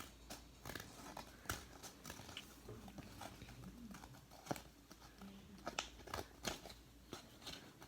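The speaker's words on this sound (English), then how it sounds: "I'm just gonna finish cutting this" Scissors cut through paper for an Easter card, a run of quiet, close snips and crisp rustles with irregular spacing and no talk.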